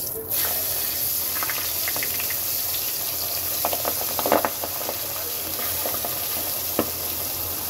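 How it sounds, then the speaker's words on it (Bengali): Pabda fish frying in hot oil in a wok, a steady close sizzle running throughout, with a few louder crackles and pops and a stir partway through, no voices. "তো চলো মাছগুলো সুন্দর করে ভেজে নেই।"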